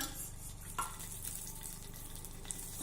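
Green chilies fry in a little hot oil in a kadhai with a steady, soft crackling sizzle and occasional faint pops, quiet and continuous.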